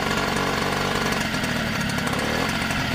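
Peugeot 103 moped two-stroke engine running steadily with the throttle held slightly open to keep it from stalling, its carburettor jet oversized; a loud, close, continuous buzzing drone with no talk.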